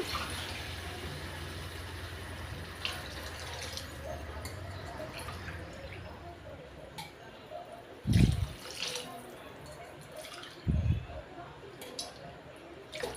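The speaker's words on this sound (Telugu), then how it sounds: "నాలుగు గ్లాసులు వాటర్ వేసుకుంటున్నాను" Water poured from a glass into a pan while making wheat rava tomato upma, a soft running trickle under a voice with two louder splashy bursts near the end.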